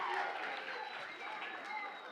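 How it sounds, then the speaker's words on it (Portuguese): Applause for a child named Arthur after his turn in a class or group activity, light scattered clapping mixed with voices and a murmuring room, fairly soft and uneven. "Uma salva de palmas para Arthur."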